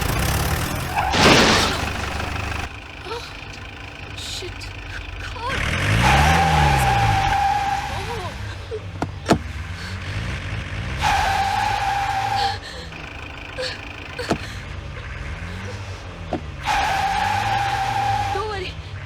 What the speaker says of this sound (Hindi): गाड़ी बैक करो, बैक करो।